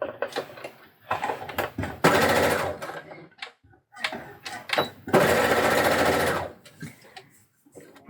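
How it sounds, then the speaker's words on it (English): A sewing machine runs in two sustained bursts, stitching the elastic casing of a fabric eye mask. The whir is loud and close, with a voice talking in the pauses between runs. "then stitch the other end."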